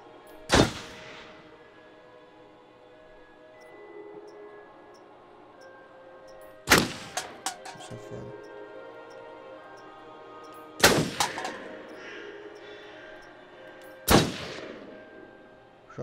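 Gunshots in the Until Dawn video game: four sharp, loud single shots spaced several seconds apart, each followed by brief rattling echoes and clatter, over a quiet low ambient hum with no talk.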